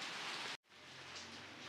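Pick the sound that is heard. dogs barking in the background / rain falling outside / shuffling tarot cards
rain falling outside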